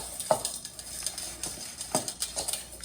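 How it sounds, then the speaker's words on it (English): Olive oil and maple granola mixture being stirred and scraped in a bowl, with a few distinct scraping strokes and soft clinks of a utensil against the bowl, close and moderately quiet, no talking. "So I just gave that a quick scrape. Stir it around"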